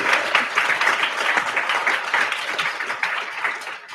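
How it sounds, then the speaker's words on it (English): An audience at a talk series bursts into sustained applause, steady clapping from a crowd filling the room from start to finish at moderate volume. "Let's give another round of applause."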